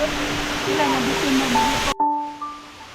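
Dao Falls in Samboan, Cebu roars with a broad, steady rush of falling water while someone talks over it, then the sound cuts off abruptly partway through.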